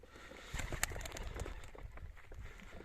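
A four-week-old late-hatched young racing pigeon during autumn training flights, its soft faint coos and wing sounds scattered over a few seconds against quiet outdoor background.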